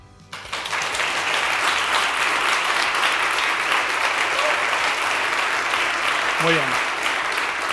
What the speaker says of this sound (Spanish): Primer aplauso en 5 años